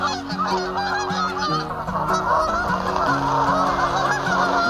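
Loud, continuous honking from a flock of Canada geese, many overlapping calls in a steady chorus, close by with no talking.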